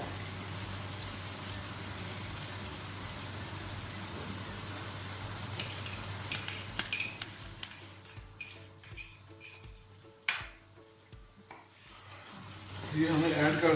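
Tomatoes mashed in a pan of sizzling mutton karahi, a steady fry hiss under scattered wet clacks and scraping stirs, close up, the stirring growing busier and louder toward the end.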